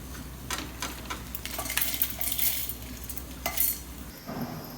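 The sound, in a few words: ridge gourd (pirkanga) cooking in oil in a pan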